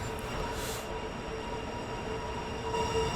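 A train pulls away from a station in the Train Sim World 2 Southeastern High Speed run, a steady rumbling roll with faint wheel squeal and a thin electric whine, continuous and fairly loud.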